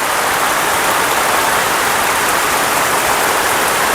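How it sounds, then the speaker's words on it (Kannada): Heavy rain pours steadily during the monsoon season, a dense, continuous hiss of drops on surfaces that stays loud and unbroken throughout, with no voices. "ಜೋರು ಮಳೆ."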